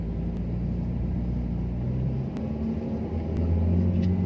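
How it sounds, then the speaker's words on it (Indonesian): A Mitsubishi Xpander Ultimate 2023 engine drones steadily under load while climbing uphill with kick down, a low continuous rumble that holds and swells slightly as it pulls, with no voices. "semoga lu dengar suara mesinnya ya"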